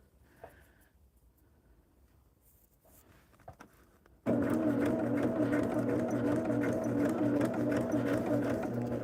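After a few seconds of faint handling noise, a sewing machine fitted with a new presser foot starts abruptly and hums steadily and loudly while sewing a curved seam on a double wedding ring quilt.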